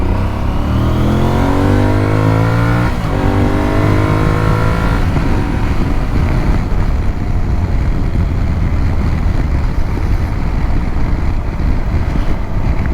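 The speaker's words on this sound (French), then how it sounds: "nous allons faire notre première accélération" Aprilia Tuareg 660 motorcycle engine revving up through rising tones, then giving way to steady loud wind rush and road roar as the bike picks up speed.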